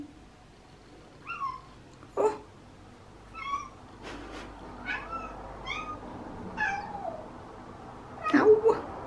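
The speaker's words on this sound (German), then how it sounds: "So viel miaut Nala in 5 Jahren nicht. Wie jetzt gerade" A house cat meows again and again in short separate calls, some drawn out and wailing, fairly close, with a louder cry near the end and no talking.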